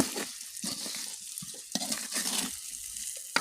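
Cumin paste, coriander paste, panch phoron and mustard seeds are stirred in a hot pan while pickle is made: quick scraping, rustling strokes in uneven bursts over a soft frying sizzle, up close with no speech.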